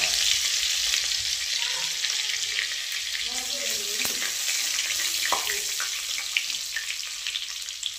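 Mustard seeds, cumin and garlic tempering in hot oil: a loud, dense, continuous sizzle and frying hiss close by, with faint spattering pops throughout.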